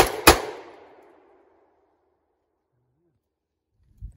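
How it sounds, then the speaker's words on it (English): A single loud gunshot from a Bear Creek Arsenal 300 Blackout pistol fired outdoors, a sharp crack that rings out and decays over about a second, followed by quiet. "Let's try this pistol out first."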